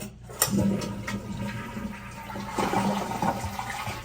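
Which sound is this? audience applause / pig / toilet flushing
toilet flushing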